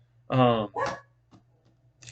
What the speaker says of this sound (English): sorry about my dog. He's an idiot.